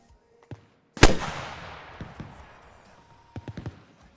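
In the military shooter Arma Reforger, a single sharp, loud rocket launch blasts out and trails off into a rumbling decay, followed by scattered distant gunshots and small impacts.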